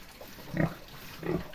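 Pigs in a farm pigsty grunt in two short, close bursts about half a second apart, low and snuffling against quiet barn background.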